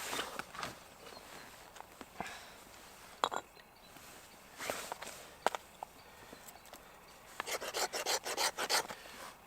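A ferro fire steel is scraped with the spine of a Mora Bushcraft Black knife, giving quiet rasping strikes that start scattered and end in a quick run of bright, close scrapes.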